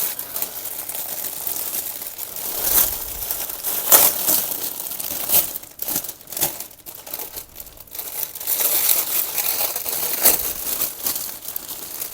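A plastic package of cross-stitch embroidery supplies is unwrapped, giving loud, irregular crinkling and crackling bursts of plastic with brief pauses between them, close up and with no talk.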